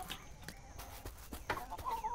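A chicken in Dinkum clucks several times in quick, uneven bursts, fairly close, over a busy ambient background with light clatter.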